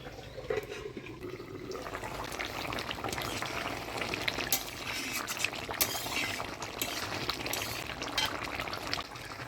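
Hilsa fish curry with eggplant simmering under a lid in a Bengali village kitchen: a continuous bubbling, sizzling hiss with scattered soft pops, moderately quiet and steady throughout.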